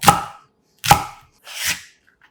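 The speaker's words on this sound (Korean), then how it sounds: "대파 반 개를 4cm 길이 정도로 잘라주고" A knife chops through half a green onion on a board, cutting it into 4 cm lengths: three crisp, separate cuts spaced about a beat apart, close and clear, with no talking.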